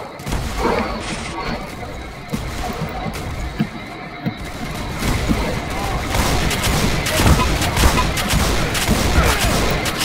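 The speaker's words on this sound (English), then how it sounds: "Jeez, this shotgun is too fast." Rapid shotgun fire in the Roblox game Typical Colors 2 rattles on in quick, dense bursts amid a busy mix of other game noise, with a voice speaking over it at times.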